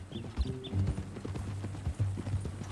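Horse hooves clip-clop at a steady walking rhythm in the Western open-world game Red Dead Redemption 2, close and fairly loud over a low ambient rumble.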